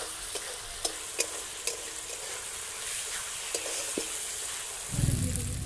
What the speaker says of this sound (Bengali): আদা বাটা, ভালো করে মশলাটা কষে নেব।